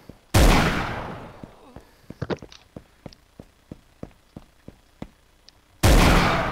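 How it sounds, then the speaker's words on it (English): Gunshots ring out in the video game Assault Cube: a loud blast, then a string of about a dozen sharp, evenly spaced shots, and another loud blast at the end. "Two of us shot Kiwi at the same time."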